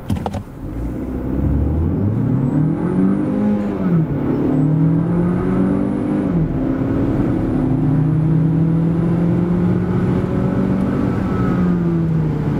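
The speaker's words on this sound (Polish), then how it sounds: "na domyślnych ustawieniach tak auto przyspiesza od 0 do setki" A 2025 Mitsubishi ASX with a 1.3-litre 158 hp petrol engine accelerates hard from standstill to 100 km/h, engine note climbing through the gears with dips at each shift, heard steadily from inside the car.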